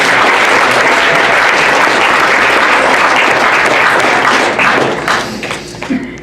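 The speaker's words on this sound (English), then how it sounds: "let's give them one more round of applause" Sustained applause from an audience at a high school National Signing Day ceremony honouring student signees, dense and loud throughout before tapering off unevenly in the final second.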